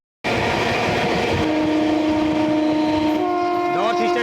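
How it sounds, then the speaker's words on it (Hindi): North East Express passing at a crossing, a loud rumbling rush of wheels starting abruptly, with a steady horn tone sounding over it and bending near the end. "North east express."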